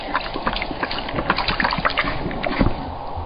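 Desert camels in the Thar gulp a ration of about 20 litres of water within seconds, steady wet sloshing and splashing close by, with irregular slurps and no voices.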